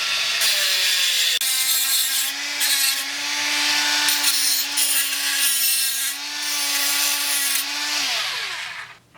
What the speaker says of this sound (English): Now you just have to get the Dremel tool out and cut that.